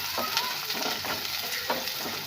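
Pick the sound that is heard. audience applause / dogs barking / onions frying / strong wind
onions frying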